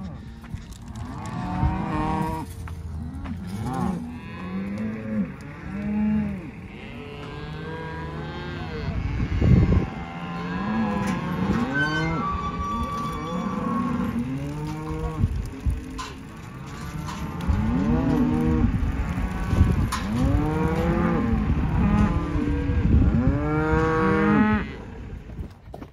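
Cattle in a corral mother up on branding day, a herd of cows and calves mooing loudly and overlapping almost continuously, with wind blowing across the pen.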